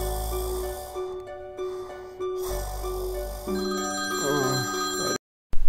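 A telephone rings at night with a repeating electronic ringtone, steady tonal bursts in a fairly loud indoor setting, with a brief silence and a short burst of noise at the very end.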